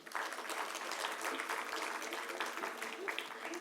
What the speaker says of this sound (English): A big round of applause for our dear principal ma'am.